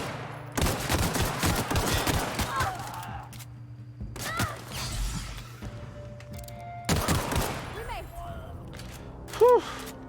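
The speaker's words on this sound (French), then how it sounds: "Je tire sur elle." Bursts of rapid gunfire from The Outer Worlds arrive in three loud clusters separated by short pauses, with steady game background hum, a few electronic tones and occasional talk in between.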